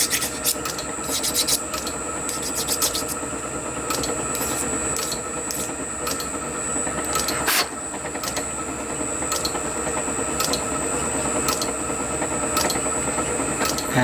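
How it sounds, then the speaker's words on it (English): A metal part for a small oscillating engine being filed to remove a burr, with repeated scraping rasps in an irregular rhythm, close up and alone without speech. "Just to take the burr off it."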